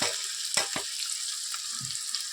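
Spices tipped into onions frying with a little sugar in a pan for an egg curry, a hissing sizzle with a few quick scraping stirs and soft knocks, close and fairly quiet.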